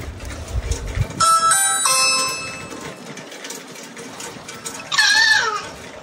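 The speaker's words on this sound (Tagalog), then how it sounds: "Doorbell tayo." A household doorbell chimes twice, two clear electronic ding tones ringing out above faint background noise, followed moments later by a bright, higher burst.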